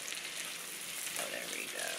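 Broccoli, already cooked, fries in a pan for a casserole, giving a steady, moderately loud sizzle and crackle that runs evenly throughout with no talk over it.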